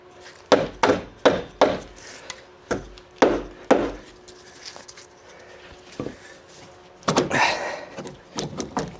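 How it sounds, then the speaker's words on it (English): Metal hammer blows on a ball joint of a 2012 Ford Focus steering knuckle strike in uneven bursts, several sharp hits close by with pauses between them, followed by a quicker flurry of blows. "Hammer."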